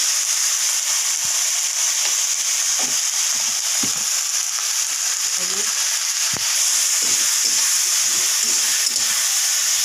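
Vegetable curry sizzling steadily in a pan, a continuous bright frying hiss with occasional soft stirring knocks, close and even throughout with no talking.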